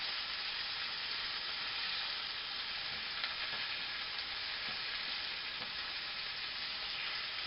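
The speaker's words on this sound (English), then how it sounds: "You can hear these over here sizzling away." Steady, even sizzling of beef pieces frying in a pan, a constant close hiss with faint crackles and no voices.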